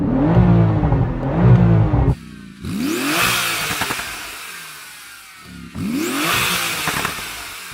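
Porsche GT2 RS engine revving hard, a loud rough bark that rises and falls, then sharp rising rev sweeps with a lull between, heard close and loud.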